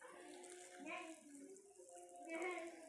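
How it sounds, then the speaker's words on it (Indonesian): Water gushes softly from a hose at a car-washing setup before the water pump is switched on, with a low steady flow close by and a voice faintly over it. "Ini aliran air sebelum pompa dinyalakan atau sebelum pompa menyala."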